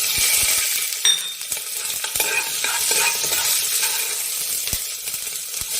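Green chillies with curry leaves frying in hot oil in a pan, a close, busy sizzle with frequent crackles and spatula clinks, no voices.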